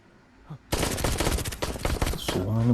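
Rapid machine-gun fire from the climax scene of an action film bursts in loud and dense after a brief quiet moment, then rattles on without a break, with a faint voice and low tones near the end.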